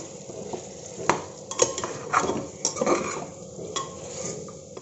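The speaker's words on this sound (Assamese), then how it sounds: "এইখিনি ঢাকনটো খুলি অকণমান লৰাম" Pot lid lifted and pork with bamboo shoots stirred in a pot, with clattering spoon scrapes and metallic knocks against the pot over a faint sizzle, close and fairly quiet.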